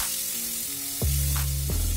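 Onion with ginger, garlic, salt, turmeric, red chilli powder and cumin powder sizzles in a pan as it is sautéed, a close bright hiss with steady tones and a thump partway through.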